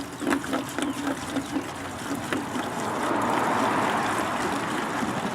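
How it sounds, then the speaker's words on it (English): A gallon of water being poured into a bucket for a rinseless truck wash: a few knocks and taps at first, then a swelling, steady rushing pour that continues to the end, close and fairly loud. "I'm going to add in 1 gallon of water into this bucket."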